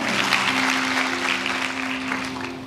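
A church congregation claps during a sermon, a dense, even burst of applause that fills the room and fades slightly toward the end.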